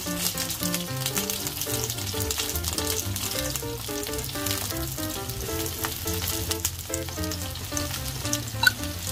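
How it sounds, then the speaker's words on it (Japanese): Shishito peppers and shimeji mushrooms pan-frying over low heat give a steady, dense sizzle and crackle throughout, close and fairly loud, with music playing underneath. "弱火で両面ね、焼き色がつく感じに焼いていきましょう。"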